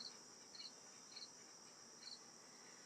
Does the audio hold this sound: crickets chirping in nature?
yes